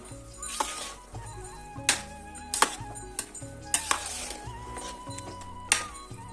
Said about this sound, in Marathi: आता लगेच आपल्याला विलायची पावडर टाकायची आणि त्याला एक वेळेस चांगलं मिक्स करायचं